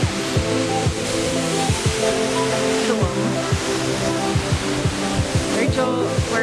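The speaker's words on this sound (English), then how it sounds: "That's the waterfall." Waterfall at Lake Minnewaska, a steady broadband roar of falling water heard up close and fairly loud, with voices chatting over it and faint rhythmic tones and thumps in the mix.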